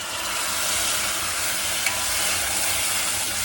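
Stuffed brinjal masala sizzles loudly in a pan after a splash of water is added, a steady, intense hiss of frying and steam that holds evenly throughout, with no talking.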